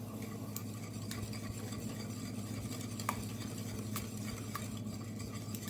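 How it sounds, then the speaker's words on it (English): A spoon works steadily through a brown sugar mixture for pecan pie filling in a bowl, producing a continuous soft scraping and swishing with faint clicks, close and fairly quiet, with no talking. "So mix it until it's all blended"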